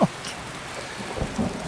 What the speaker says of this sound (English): I just made it rain more.